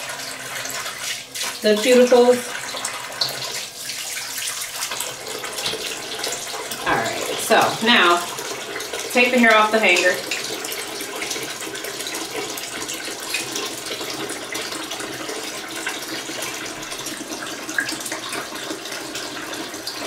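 Warm water runs steadily from a tap while virgin hair weave extensions are being co-washed, a continuous hiss and splash that persists throughout as someone talks over it in several stretches.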